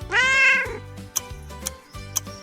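A single clear, drawn-out cat meow, close and fairly loud, followed by a few soft ticking clicks over a faint low hum.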